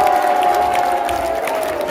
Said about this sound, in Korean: 여러분 다시 한번 큰 박수로 환영해 주십시오.